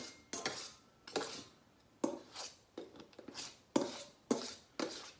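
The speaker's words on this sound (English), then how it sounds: "I'm gonna take my knives and start cutting this butter up." Two knives chop butter inside a bowl while making hard dough bread from scratch, giving sharp, regular clinks and scrapes of metal on the dish about twice per second, close and clear with no talk.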